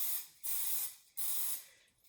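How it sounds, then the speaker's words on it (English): Two short bursts of cooking spray hiss from an aerosol can, close and fairly quiet, with a brief pause between them. "So what I do now is I spray them"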